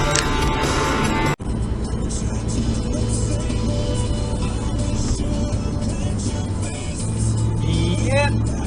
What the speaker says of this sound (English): Yep, that's an illegal overtake. It's a BMW, what a surprise.